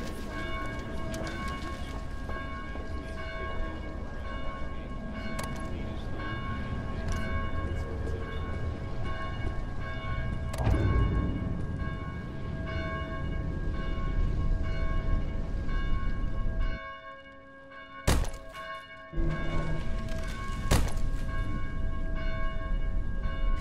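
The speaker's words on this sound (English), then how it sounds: "Please help us silence these bells. They are calling to the devil's disciples." Church bells ringing steadily from a belfry in Dead Island: Definitive Edition, sustained tonal peals with repeated strikes over a constant rumble, briefly cut off near seventeen seconds before resuming.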